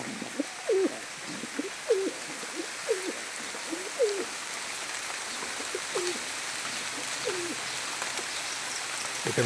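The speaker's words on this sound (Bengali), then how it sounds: "এটা আছে সাদা ঘুঘু এটা হোয়াইট ডাব অস্ট্রেলিয়ান" Pigeons, white Australian doves and fantail pigeons, coo in a steady series of short, soft calls about every second, close by, under a constant hiss of heavy rain.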